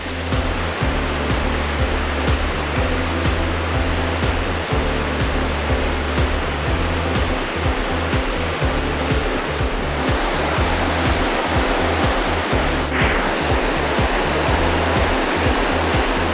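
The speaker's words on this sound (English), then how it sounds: "We just crossed the Deerfield River, the east branch here" The east branch of the Deerfield River in Vermont's Green Mountain National Forest rushes past in a steady, loud, broadband roar of flowing water, continuous and alone throughout with no voices.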